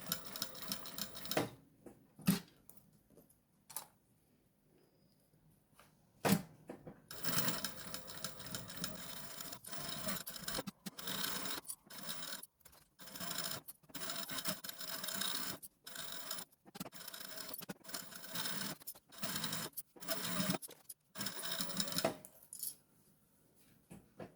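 A domestic sewing machine stitching around the edge of a fabric placemat, running in bursts of rapid mechanical whirring with short pauses between, fairly quiet and close.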